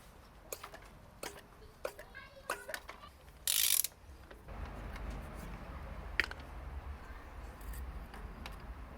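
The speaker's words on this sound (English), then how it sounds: "It's a good thing that I'm changing the spark plugs" Ratchet wrench clicking while spark plugs come out of a Honda Accord CG8 engine, several short bursts of pawl clicks and metallic clatter close by, followed by a louder rumbling stretch.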